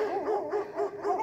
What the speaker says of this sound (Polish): Dzisiaj trafiłam na psy.